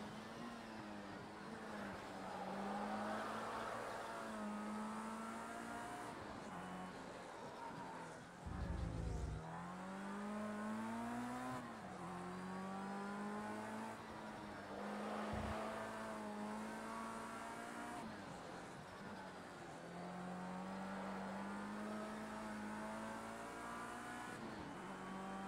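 An F-Rookie open-wheel race car laps the Long Beach street circuit in Project CARS 2, its engine droning steadily and rising in pitch through the gears, with quick drops at each shift and under braking.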